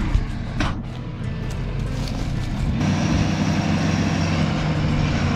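A delivery truck loaded with truss materials rumbles in nearby. Its heavy engine drone grows steadily louder and denser after a few sharp clatters at the start.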